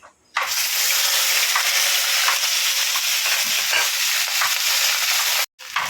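Beef meat hits a hot pan with patam masala, cinnamon and black pepper, bursting into a loud, dense, continuous sizzle that cuts out briefly just before the end.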